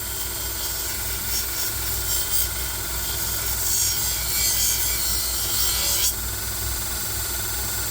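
Back side of a spinning wheel buffing rusty, pitted metal, a steady, close, harsh rubbing and rasping grind over a low motor hum.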